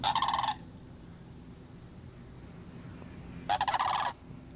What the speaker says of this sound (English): Squawking bird doesn't bother him. Sandhill Cranes passing over.